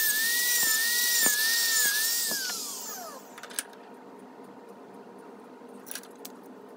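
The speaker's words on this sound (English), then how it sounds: "I'm notching the file tang with some small notches to let the epoxy get a better grip." A small tool cuts notches into the tang of a rat tail file, giving a steady, high, close whine for about three seconds that then stops, leaving only faint clicks and taps.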